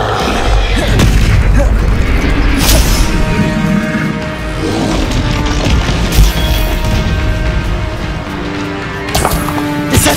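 Bombarda blasting-spell explosions in the Hogwarts Legacy video game on Xbox Series S, heavy booming blasts with crashing impacts and whooshes layered over continuous loud combat noise.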